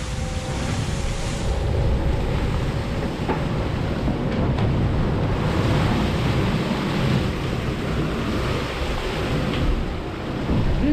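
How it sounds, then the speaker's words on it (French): Steady rushing surf and wind noise aboard the racing sailboat Maître Coq in the Southern Ocean during the Vendée Globe, a constant loud roar of breaking waves with no talking. "Il y a ces belles vagues là"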